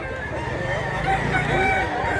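At a chicken market, a rooster crows over the ambient noise of the crowd, with murmuring voices and a low background hum.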